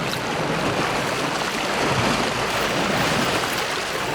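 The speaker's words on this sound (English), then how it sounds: "And we're just going to run through the water." Continuous splashing wash of a character running through water in the VR game Scanner Sombre, a steady broadband rush with no pauses and no voices.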